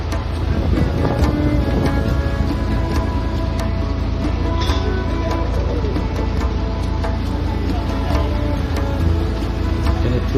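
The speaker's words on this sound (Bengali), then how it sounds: "প্রচন্ড হাওয়া।" Strong wind blowing outdoors at a riverside hilsa festival, a loud continuous buffeting roar across the microphone with faint background activity throughout.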